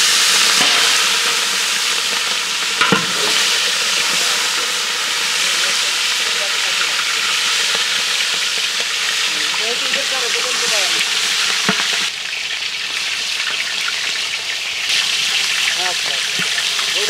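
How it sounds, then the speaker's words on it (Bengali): Chicken pieces fry in hot oil for a roast, a steady loud hiss and sizzle with occasional spoon knocks, and faint voices in the background. "তেল গরম হয়ে গেছে, তাড়াতাড়ি মুরগি দেন এর ভেতরে।"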